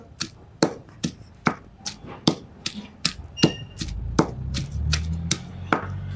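Thick chillies being pounded by hand with a stone, a steady series of about fourteen sharp, close knocks at a regular rhythm, with a low rumble joining toward the end.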